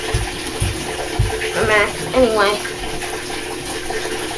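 An Amana washing machine fills with water during a clean-washer cycle, a steady rushing flow in the background while a person speaks briefly over it.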